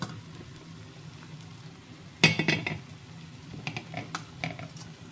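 A lid is set back on a cooking pot of spicy onion bhujane placed over a griddle, making one sharp metallic clank followed by a few lighter clinks and rattles close by.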